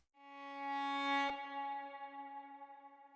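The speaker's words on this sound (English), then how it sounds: "there's some type of like echo reverb going on after the phrase itself" A short chopped string phrase, pitched down and time-stretched, plays steadily then cuts off with a click, leaving a fading echo and reverb tail that flutters and decays over the next couple of seconds, with no voices.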